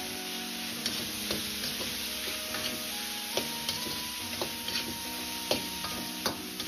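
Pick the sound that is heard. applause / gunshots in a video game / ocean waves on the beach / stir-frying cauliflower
stir-frying cauliflower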